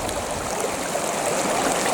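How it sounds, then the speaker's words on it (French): A river flowing close by along a mountain hiking trail, its steady rushing and burbling water sound continuous and fairly close, with no voices over it. "La rivière est juste à côté, vous voyez."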